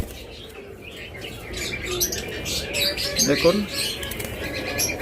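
Lutino cockatiels in a large master pair give off chirps and calls along with wing flaps in a busy bird enclosure, while someone talks over them.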